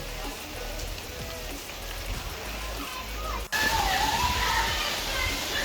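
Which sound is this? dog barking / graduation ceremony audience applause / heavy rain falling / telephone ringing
heavy rain falling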